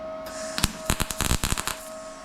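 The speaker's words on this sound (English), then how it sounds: "Start stitching." Sharp crackling bursts of welding arc stitch welding a Chevelle fender, several quick stuttering zaps in a short cluster, close and loud over a faint background hum.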